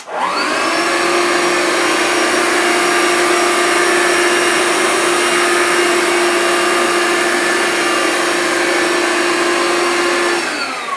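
A Vax Life cordless upright vacuum cleaner running on carpet, a loud steady motor whine with a strong tonal hum that holds evenly for about ten seconds and winds down at the end.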